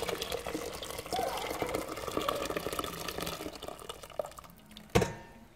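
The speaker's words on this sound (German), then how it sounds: "Und habe erstmal schon mal Wasser aufgekocht. Und kippe das hier mal rein." Freshly boiled water is tipped from a kettle into a cooking pot for pasta, giving a steady close splashing pour that ends with a sharp clunk of the vessel near the finish.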